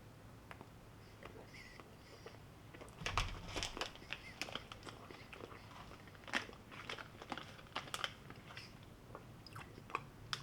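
Close, quiet biting into a custard-filled pastry snack, followed by soft crunching and squishy chewing that comes and goes in small irregular bursts.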